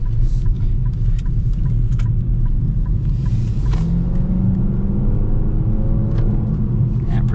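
A 2026 Nissan Kicks SR with all-wheel drive pulls away under acceleration, its engine a steady low drone and road rumble from inside the cabin, rising smoothly with a faint climbing tone partway through and no talking.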